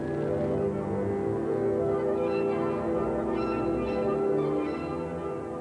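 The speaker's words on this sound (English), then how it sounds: "The warning bell signals the last few moments for mental and physical preparation." A warning bell at a Soviet circus rings steadily before an act begins, its sustained tone sounding continuously and fairly loud, with no voices.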